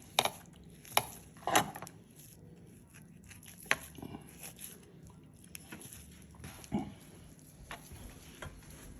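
A small knife works under the gristle on a New York beef strip roast, making sparse soft cutting and tapping sounds against a board with quiet handling noises in between.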